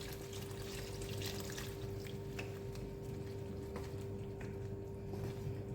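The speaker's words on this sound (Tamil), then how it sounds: "இதில் தேவையான அளவு தண்ணி சேர்த்துக்கணும்." Pork cooking water poured into a pan of butter pork masala, a steady close trickling pour running continuously with a constant hum behind it.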